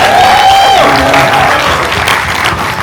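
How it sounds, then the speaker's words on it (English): An audience at a film Q&A gives a full round of applause, dense clapping mixed with a few cheers and a brief whistle-like tone early on. "All right, give them another round of applause."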